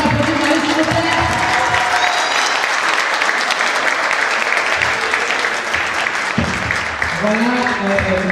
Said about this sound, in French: Est-ce qu'on peut applaudir Maryse, s'il vous plaît?